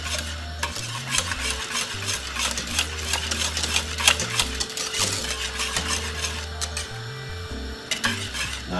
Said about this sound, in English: Let's continue whisking it, as you can see.